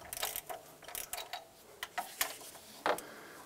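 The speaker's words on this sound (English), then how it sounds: "Using a 12 millimeter socket or wrench, we're going to remove the three nuts off of the thermostat housing." A ratchet wrench with a 12 mm socket loosens the nuts on the thermostat housing of a 2000-2006 Toyota Tundra 4.7L V8, giving short, quiet bursts of clicking separated by pauses, close by and with no talk.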